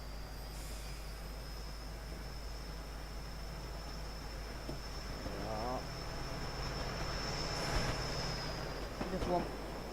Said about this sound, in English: Oh, there's a double freight train coming through.